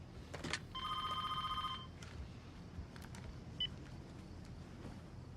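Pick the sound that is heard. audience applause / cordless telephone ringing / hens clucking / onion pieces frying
cordless telephone ringing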